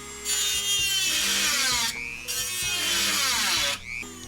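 A nearly worn-out abrasive cutting wheel grinds in long, loud, close passes, each ending in a brief pause, with a whining, rasping tone and no talking.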